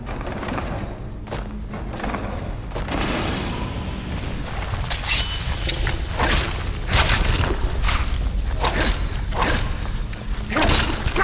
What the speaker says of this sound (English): Because all these are fire traps.